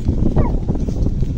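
Dogs at a home yard at night whimpering and yipping, a short rising whine over a busy low rumble of background noise.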